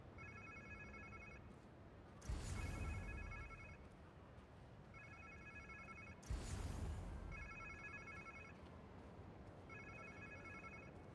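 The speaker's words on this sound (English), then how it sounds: "Sounds like somebody's phone." A phone rings in Marvel's Spider-Man 2, a steady electronic trill repeating in even bursts over quiet game ambience, with two louder whooshing swells breaking in.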